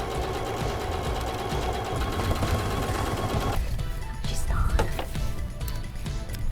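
Sewing machine stitching a tote bag closed, a fast close mechanical rattle that runs steadily then breaks into short bursts and clicks as it slows and stops.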